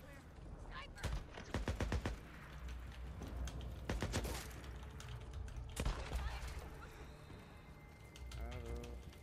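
Sniper rifle gunfire in a video game, several sharp cracks spaced a couple of seconds apart over background game noise and clatter, moderately loud and close.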